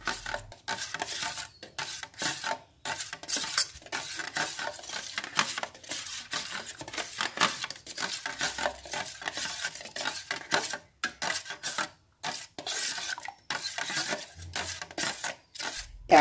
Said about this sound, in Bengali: এবারে সবকটি জিনিসকে খুব ভালো করে একে অপরের সাথে মিশিয়ে নেব।